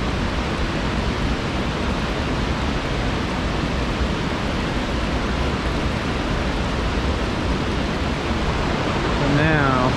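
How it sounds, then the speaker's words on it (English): Waterfall at Burgess Falls State Park near Sparta, Tennessee, a steady, loud broadband roar of falling water that fills the whole stretch without pause, with a faint voice emerging only at the very end. "So now, we've got the edge of a waterfall over here."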